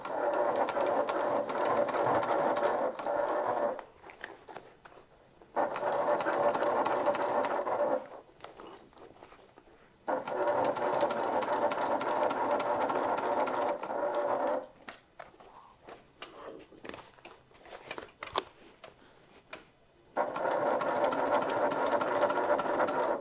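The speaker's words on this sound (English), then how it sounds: "I'm just taking a few stitches at a time, coming around" A sewing machine stitches a side seam on a top-handle bag in short runs: about five loud bursts of whirring stitching separated by brief quiet pauses, close and clear.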